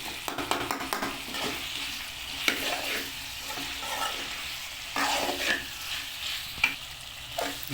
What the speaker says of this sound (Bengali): টমেটোগুলো কিন্তু একদম দেখা যায়নি, পুরো মিশ্রণ করে দিচ্ছি ওর সাথে।